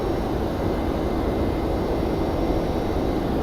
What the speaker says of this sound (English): getting ready to take off right now